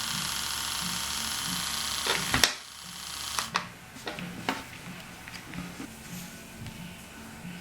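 Tattoo machine buzzing steadily as its voltage is cranked up so it runs faster, a close, fairly quiet electric hum joined by a few sharp clicks and taps.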